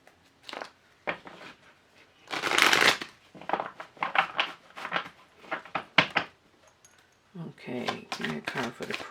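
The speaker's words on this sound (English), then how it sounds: "I shuffle these cards really good," Rapid riffling and soft slaps of tarot cards being shuffled, in several short bursts, one louder flurry in the middle, with a voice speaking between them.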